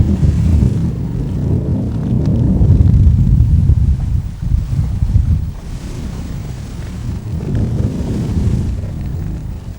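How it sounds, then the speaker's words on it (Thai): Strong wind and rough sea off Trat near dusk, with fishing boats anchored nearby: a steady loud rumble of wind buffeting the microphone and churning waves, continuous and close, with no voices. "ในช่วงใกล้ค่ำคลื่นลม ก็ยังไม่ซาลง"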